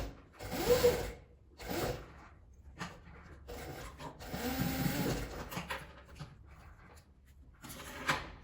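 Sewing machine stitching a zipper onto a fabric scrap coin purse, soft uneven whirring runs with brief stops, fairly quiet and close.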